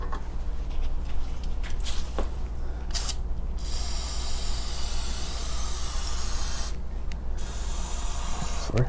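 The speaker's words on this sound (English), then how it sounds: "So we're going to spray all that down." Loud continuous spray hiss of cleaner on a grimy 5000-watt generator, with a couple of brief pauses, close up, over a low steady hum of running machinery.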